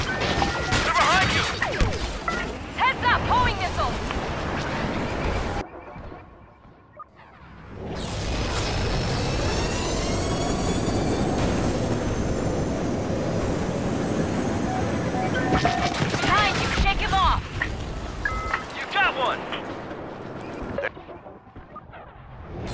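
Star Wars Battlefront starfighter dogfight with air defense fire, a dense, loud roar of engines, blasts and explosions that drops briefly into a quieter gap before surging back, with radio chatter over it.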